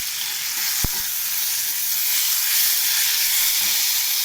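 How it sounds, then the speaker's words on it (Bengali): Curry sautéing in a pan with coriander leaves added, giving a steady broadband sizzle and hiss throughout, with a brief sharp clink near the start and no talking. "এরপর আমি ধনে পাতা দিয়ে একটু কষিয়ে নেবো।"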